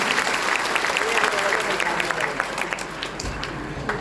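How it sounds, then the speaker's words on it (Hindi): An audience at a Bihar State Madrasa Education Board centenary ceremony claps loudly to welcome a secretary, steady, dense applause filling the hall, thinning slightly near the end. "हमारे सेक्रेटरी साहब जनाब अब्दुल सलाम अंसारी का तालियों के साथ इस्तकबाल करें"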